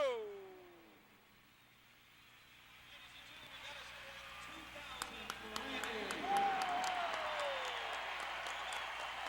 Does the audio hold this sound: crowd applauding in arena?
yes